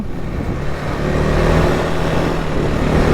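KTM 390 Adventure R 2026 motorcycle ridden off-road on light sandy ground: a steady, close engine drone that slowly builds in loudness, with no talking.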